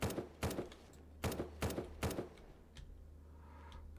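Gunfire in the zombie survival game SurrounDead: about five sharp shots in an uneven rhythm, fairly close and loud, over a steady low hum, then a quieter stretch of softer game ambience.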